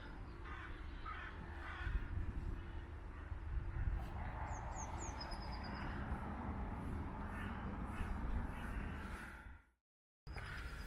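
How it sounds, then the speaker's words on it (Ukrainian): Crows caw a few times in the distance over steady outdoor background noise near Olawski Bridge in Wroclaw, before the sound briefly cuts out. "І чути каркання ворони"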